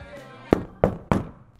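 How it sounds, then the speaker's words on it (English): Three loud, sharp knocks sound on a door at a Halloween party, evenly spaced and close, with a faint low hum of music underneath. "Suddenly, a loud rapping is heard at the door, startling the partygoers over the booming radio."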